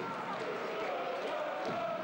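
A football crowd in the stadium at Doetinchem roars steadily in the distance, a broad, even swell of many voices with no breaks, fairly faint.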